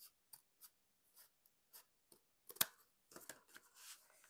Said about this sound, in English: I'm just going to come in here with my scissors and trim that little part off so it's even